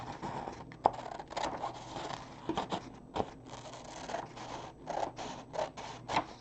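Scissors cut through paper for a paper quilt square, a quiet series of irregular crisp snips and rustling scrapes, close by and with no talking.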